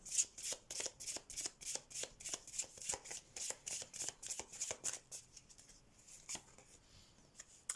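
Oracle cards are shuffled by hand in a quiet room, close and crisp, in a fast, even rhythm of riffling bursts that slows and softens near the end.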